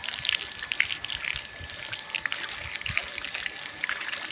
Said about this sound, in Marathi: त्यामुळे ते जरासं पाणी मारण्याची गरज आहे